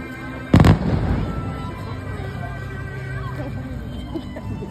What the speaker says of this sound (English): Oh, it's just fireworks.